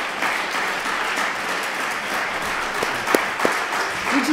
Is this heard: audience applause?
yes